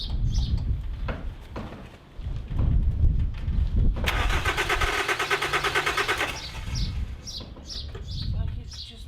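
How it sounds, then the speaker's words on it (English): A 2004 Nissan X-Trail T30 4x4 diesel, recovering from a runaway, cranks for about two seconds with a steady rapid chug of the starter but never fires. People talk before and after the cranking, with faint bird chirps in the background. "Like it's just not catching. Well, I don't know, it's not doing anything, is it? It's just turning over."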